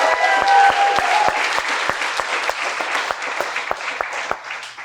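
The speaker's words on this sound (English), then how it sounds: "Let's have a round of applause for the most beautiful, stunning, classy bride we've ever seen." Loud applause from wedding guests for the bride during the toasts, a dense steady roar of many hands with sharp individual claps cutting through, briefly touched by a whistle-like tone near the start.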